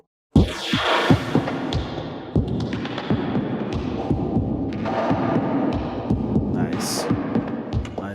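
Reverb plugin effect on a thumping, pulsing sound, with low throbbing hits and a smeared, swirling wash of modulated ambience that sustains and shifts throughout.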